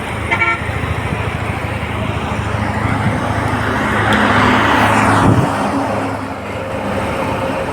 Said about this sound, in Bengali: বাসগুলো চলে যাচ্ছে কুষ্টিয়া যশোর হয়ে খুলনা